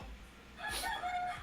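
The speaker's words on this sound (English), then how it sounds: "Shut up, Rooster." A rooster crows once, fairly faint and slightly distant, over a steady background hum during a morning coffee moment.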